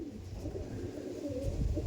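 A pair of fulsira pigeons coo softly and low, a steady murmuring call with no pause throughout.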